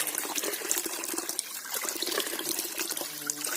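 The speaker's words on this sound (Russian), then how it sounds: "А еще напиться с этого истока, вот прям с самого-самого момента зарождения этой речки." Water from the spring at the source of the Dniester river flows and gushes steadily outdoors, a dense continuous splashing that stays close and fairly loud throughout without pause.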